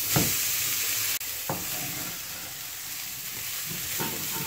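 Rice tipped into oil frying with cumin and turmeric, giving a steady bright sizzle throughout, with a few soft stirring knocks and a brief dip in the hiss.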